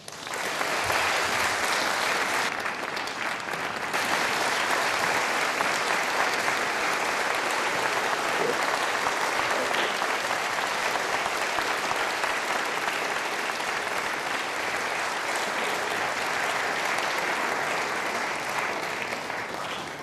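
A large audience claps steadily and loudly for about twenty seconds after a jubilee speech, a dense unbroken wash of applause with no voices rising above it.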